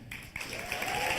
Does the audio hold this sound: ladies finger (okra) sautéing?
no